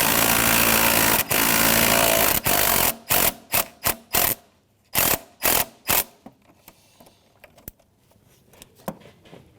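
A ratchet and 10mm socket loosen a bolt on the air intake of a 2007-2013 Mitsubishi Outlander, first a long run of fast clicking, then a series of short ratcheting bursts, and finally sparse faint clicks, all close.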